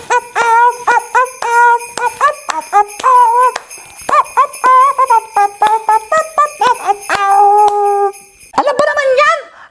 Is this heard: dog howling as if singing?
yes